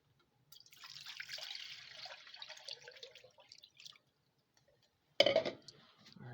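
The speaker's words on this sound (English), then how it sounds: "I'm going to put that in the pot along with 4 cups of water" Water poured into a soup pot with a bouillon cube, about four cups, a steady splashing stream for a few seconds that tapers off, then a brief sharp clatter and trickle after a pause.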